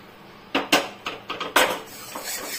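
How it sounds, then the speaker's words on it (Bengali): A metal kadai wok is set down on a kitchen stove, with a quick series of five or six close clanks and knocks of metal against metal, the first ones loudest. "কড়াইটা বসিয়ে দিই।"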